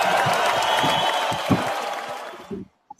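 Dense crowd applause in a radio studio setting, a steady hiss of clapping with a few louder claps that fades out toward the end, followed by a brief clatter and near silence.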